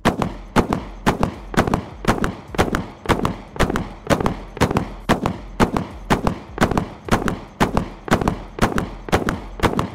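Bradley fragmentation rounds in War Thunder burst in a fast, steady rhythm, roughly two sharp explosive cracks per second for ten seconds, loud and evenly spaced with no voices.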